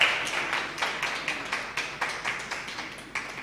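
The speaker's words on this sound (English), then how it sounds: "So a round of applause for Ms." Audience applause for a newly introduced judge at a debating competition, a steady, moderately distant patter of many hands with slight surges, no voices over it.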